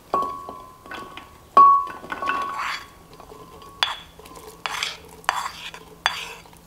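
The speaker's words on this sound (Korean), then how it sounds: "삶은 콩은 건져서 믹서기에 넣고" Boiled black soybeans are scooped from a pot into a blender: a series of clinks, scrapes and wet stirring knocks from a utensil against metal, spaced irregularly and close by.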